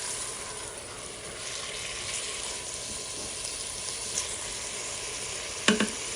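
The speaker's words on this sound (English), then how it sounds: "go ahead and just start stirring and breaking down that little frozen chunk of meat as well" Frozen ground beef being stirred and broken up in an Instant Pot, with a continuous sizzle under scraping stirring sounds and a sharp utensil clack near the end.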